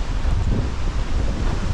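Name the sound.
wind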